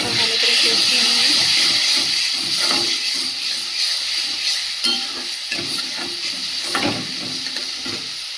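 Kashmiri chilli masala sizzles with a loud, steady hiss after a splash of water and is stir-fried in a pan, with soft scraping strokes breaking through every second or so.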